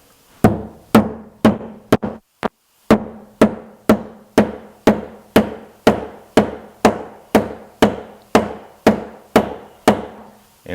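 A part is tapped lightly to seat it into a hole in MDF, giving about twenty crisp, close knocks at a steady rhythm with one brief pause near the start and no talking.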